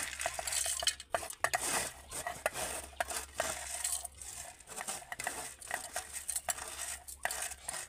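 Dried pieces tip into a mixer grinder jar for homemade milk powder, giving a busy rattling clatter of repeated small clinks and knocks against the jar.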